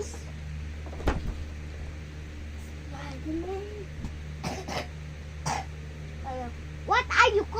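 Several short coughs and throat-clearing bursts come from a child indoors, spread irregularly and ending in a louder cluster, with other kids talking around them.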